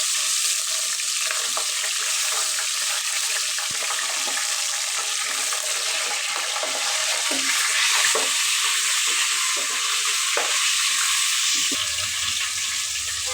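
Spices and ginger paste sizzle in a pan with a continuous, close, loud hiss, broken by scraping and stirring sounds throughout, with no one talking.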